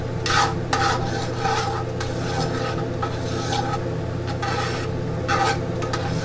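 Butter is stirred into a pan of pork chops with vinegar peppers and sauce, giving rhythmic scraping and rubbing strokes over a low steady hum and soft sizzle, close and continuous.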